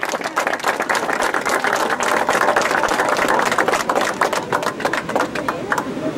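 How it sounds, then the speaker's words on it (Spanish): Dense, steady applause from a crowd at the inauguration of the Resistencia bridge in San Miguel-Vilcabamba, many hands clapping at once in a continuous wash with no pauses. "¡Aplausos,"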